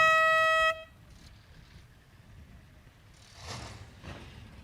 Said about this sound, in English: Again, I'll sound the horn at 30.